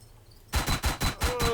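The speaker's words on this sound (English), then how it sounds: "Oh, this is a grenade machine gun." Grenade machine gun firing in the video game Arma 3: four heavy, evenly spaced booming shots about a third of a second apart, loud and close, following a quiet lead-in.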